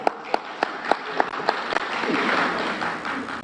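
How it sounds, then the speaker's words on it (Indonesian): Studio audience at an Indonesian TV news talk show breaks into applause, starting with a few sharp separate claps that swell into sustained, fairly close clapping across the room. "Kita berikan tepuk tangan yang meriah"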